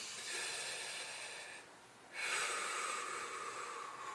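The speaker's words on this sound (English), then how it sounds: "I'm just going to take several deep breaths" Slow, quiet deep breaths drawn in and out through the nose during a ribcage stretch with the head held back, a soft airy inhale, a brief pause, then another breath, close and faint.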